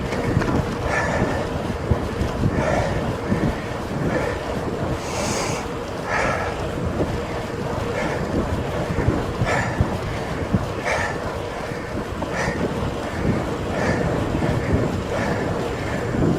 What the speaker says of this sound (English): That wind is saying no.